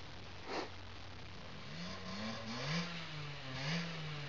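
A 50cc enduro motorcycle engine runs at a distance, faint and buzzing, its pitch rising and falling through a few revs under steady background noise.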